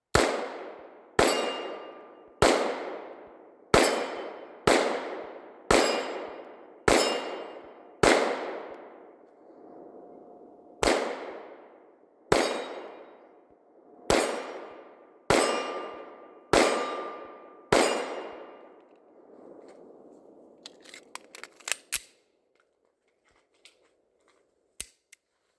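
A stainless Beretta 92FS Inox pistol fires about a dozen sharp, echoing shots in a fairly steady rhythm with one longer pause, then a few faint metallic clicks and taps.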